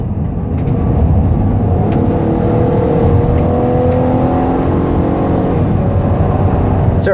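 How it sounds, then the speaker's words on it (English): A 2010 Dodge Caravan wheelchair-accessible minivan with a 4.0 engine accelerating hard from inside the cabin, the engine note rising steadily and then dropping as it shifts gears, loud and continuous. "I'll give it some gas here so you can hear the engine run out"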